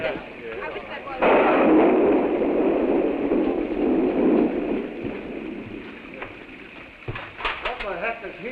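Storm thunder rolls in a long, low, rumbling swell that peaks early and fades, followed by softer crackles, with faint voices underneath.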